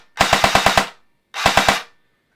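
Cyma CM009B M16A1 airsoft rifle firing a quick run of six rapid shots, then a short three-round burst after a pause, crisp and close with silence between.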